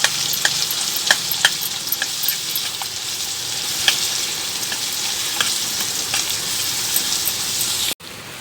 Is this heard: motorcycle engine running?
no